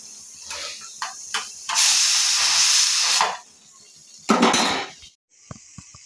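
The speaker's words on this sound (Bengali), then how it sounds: "এই দেখুন আমাদের প্রেসার কুকারে শীষ দেওয়া হয়ে গেছে।" A pressure cooker whistle blows on a stove while greens are cooked, giving a loud sustained hiss of escaping steam about a second and a half long, framed by shorter hissing bursts and kitchen clatter.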